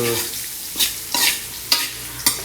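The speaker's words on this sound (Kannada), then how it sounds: "ಇಲ್ಲಿ ಈ ಥರ ಎಣ್ಣೆ ಜೊತೆ ಎಲ್ಲವನ್ನು ಕೂಡ ಫ್ರೈ ಮಾಡೋದು" Spices frying in oil for Mangalore-style egg rice, a continuous hiss under four sharp scraping stirs of a spoon in the pan, close and alone.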